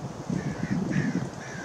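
Crows cawing outdoors in the mountains near Julian, California, a few harsh repeated calls over a short stretch, moderately close and clear, with no speech.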